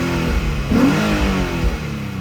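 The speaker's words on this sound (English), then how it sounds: "I mean, look how this revs." The engine of a 2005 Infiniti G35 with a six-speed manual revs up sharply a couple of times, the close, loud roar climbing and dropping with no one speaking.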